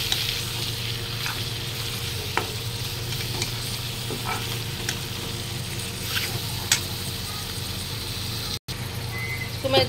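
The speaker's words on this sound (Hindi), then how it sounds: "इसमें मैं चिकन डाल देती हूँ।" Chicken pieces frying with softened onions in a pan on a home stove, a steady close-up sizzle with occasional stirring scrapes and pops.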